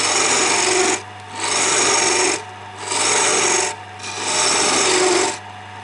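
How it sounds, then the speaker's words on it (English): A skew chisel takes a light finishing cut on a woodturning lathe, giving a rasping shave in three or four separate bursts with short pauses between them, close up and with no voices. "I've left a little tiny bit for the skew cut to finish."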